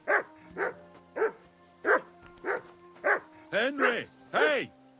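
A dog in the medieval-set video game Kingdom Come: Deliverance II barks repeatedly and close, about eight sharp barks in a steady rhythm, the last few louder and doubled.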